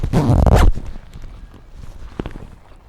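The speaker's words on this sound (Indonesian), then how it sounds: "Nah ini sama aja untuk si resleting sampai atas" A mountain jacket zipper, on a waterproof Kilimanjaro Andalas hiking jacket, is pulled up in one loud, quick zip lasting about half a second, followed by faint handling rustles and a soft click.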